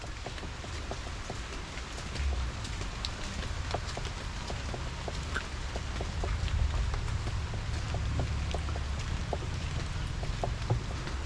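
Light rain falling outdoors, a soft steady patter of scattered individual drops ticking on surfaces over a low, even background wash, fairly faint, with no talking.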